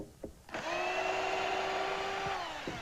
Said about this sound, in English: As you can see, I'm really drilling that in there.